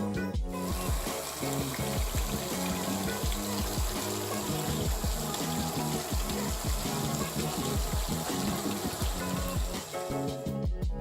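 Water is pumped out of a garden pond, producing a continuous rushing, splashing flow that stays steady and fairly loud throughout, with no voices.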